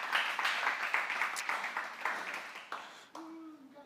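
Audience applause fills the room as a person walks up on stage at a morning gathering, a steady patter of many hands that fades toward the end.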